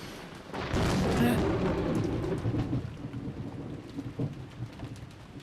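Thunder rumbles and cracks over steady heavy rain in the Umineko visual novel, the storm loud and close at first, then easing into a softer patter with a further faint rumble near the end.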